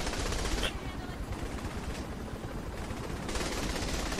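Rapid bursts of gunfire in Saints Row: The Third crackle continuously with a dense, noisy texture, like automatic weapons, with voices faintly mixed in.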